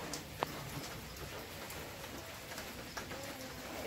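Morning rain falls steadily on a farm, a soft, even patter with a few louder drops, fairly faint and continuous with no voices.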